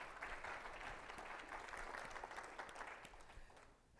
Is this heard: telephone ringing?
no